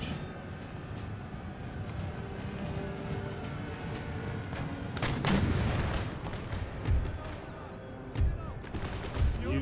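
Musket volleys and artillery crack through a naval-city battle in Empire: Total War, storming Copenhagen, with loud irregular bursts of gunfire over a rumbling battlefield din and distant clattering.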